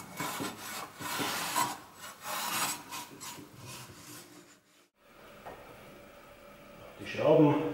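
Motorcycle screws being rubbed and polished clean with a cloth, a stretch of scratchy, raspy rubbing strokes at close range, then a brief lull and a few more scuffs.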